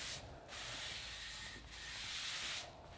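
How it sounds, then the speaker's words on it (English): Steady back-and-forth rasp of sandpaper on a wooden bookcase base and top, moving from 120 to 220 grit, in three long continuous strokes with brief pauses between them, close and fairly quiet. "After sanding the base and the top, starting with 120 sandpaper and finishing with 220 sandpaper"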